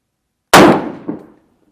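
One loud, sharp gunshot from a PSA Sabre AR-10 rifle, the first round fired at a range, with a quick-decaying crack and a brief echo shortly after, then silence.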